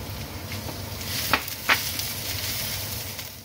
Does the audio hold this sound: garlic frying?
yes